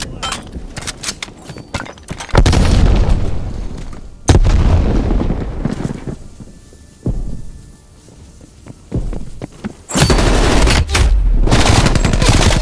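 Frag grenade thrown during a Call of Duty: Black Ops Cold War firefight, loud blasts and heavy gunfire erupting in bursts with quieter gaps between, close and dominant.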